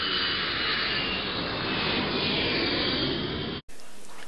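The engine of an airplane built by students roars loudly and steadily, then cuts off abruptly near the end and leaves a much quieter background.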